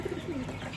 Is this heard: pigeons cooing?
yes